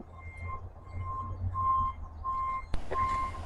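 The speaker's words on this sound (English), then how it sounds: "With all that beeping in the background, you'd think I was living in a construction yard." Repeated electronic beeps like a reversing vehicle sound at a distance over low truck rumble, ending with a sharp metallic bang.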